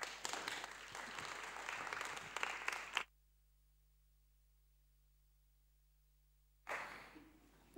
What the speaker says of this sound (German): Einen großen Applaus für Professor Dr.